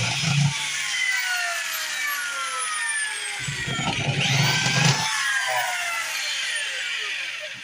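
A hand-tightened drill with a separate chuck key bores holes during a pedal-conversion rebuild on a 1986 Dodge 4wd, a loud continuous whining motor with grinding bursts as the bit bites into metal, close and steady.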